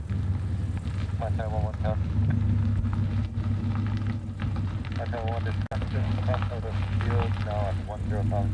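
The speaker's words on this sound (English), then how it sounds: "The F-22s are flying tonight." F-22 fighter jets flying past at night near Honolulu airport in Hawaii: a steady, loud, low engine roar fills the whole stretch while people talk over it.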